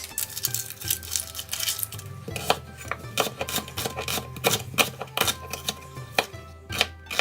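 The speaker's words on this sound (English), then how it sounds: "Likewise with our 2 onions, cut them into halves and then into strips." A knife cuts halved onions into strips on a cutting board for Szechuan chicken, producing a steady, rapid run of close, crisp chopping taps.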